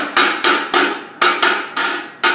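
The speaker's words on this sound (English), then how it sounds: "Slag's got to get chipped off with a slag hammer." A slag hammer chips slag off a fresh arc weld in seven sharp metallic strikes, close up and loud, each ringing briefly before the next in an uneven rhythm.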